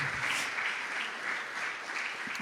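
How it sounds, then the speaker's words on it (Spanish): A church congregation at a Sunday service applauds steadily throughout, a dense and even wash of many hands clapping at a moderate level with no speech on top. "Démosle un aplauso al Señor"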